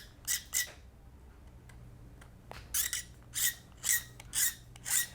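Blunt hobby knife blade scraping the surface of a plastic model kit part: a close series of short, dry rasping strokes, two early, then a steady rhythmic run of about six.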